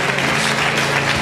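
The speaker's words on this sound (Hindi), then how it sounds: "Come on, give a big hand to Jesus." A congregation at a retreat centre in Ludhiana applauds in a steady, dense wash of clapping, heard briefly and alone.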